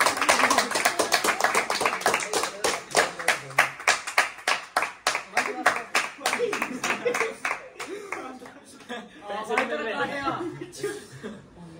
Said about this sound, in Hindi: ताली ना बजानी आती